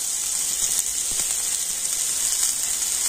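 Finely chopped small onion dropped into hot oil, a steady bright hiss and crackle of frying that holds even throughout with small pops, close to the pan and without speech.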